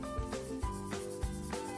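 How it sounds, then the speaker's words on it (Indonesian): A wooden ukulele neck is smoothed with sandpaper and a file in a workshop, giving rhythmic back-and-forth rubbing strokes, about five of them, close and fairly quiet, with faint background music. "supaya lebih nyaman dipegang, gagang harus dihaluskan dengan amplas dan kikir"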